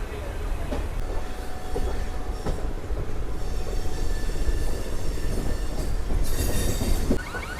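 A MEMU train from Vijayawada rolls into platform 3 at Visakhapatnam Junction, a loud steady rumble of wagons with wheel clatter and brief high squeals, continuing close and heavy throughout.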